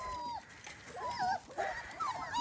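Puppies whimper and yip in the cold, a cluster of thin, high, wavering cries overlapping in quick bursts, faint and close.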